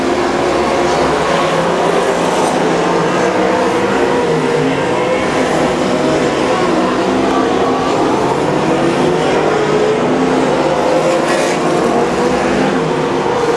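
Speedway race cars at Oceanview Speedway in Wanganui, New Zealand, lap the track during a teams meeting, a continuous loud roar of engines with no break.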